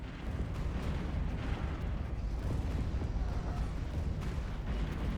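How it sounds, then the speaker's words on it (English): A space fleet in a video game unleashes a volley of kinetic weapons and arc emitters against a crisis fleet: a dense, continuous barrage of booming explosions and impacts with no pauses. "Just the volley of kinetic weapons and arc emitters completely destroying the contingency fleet."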